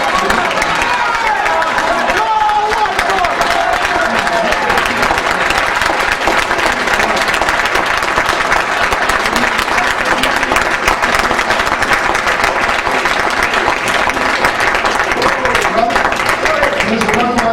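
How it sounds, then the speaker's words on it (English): A large audience at a mosque gathering in Phoenix, Arizona applauds loudly and continuously, dense clapping with some cheering sustained evenly throughout. "give them the applause they really deserve"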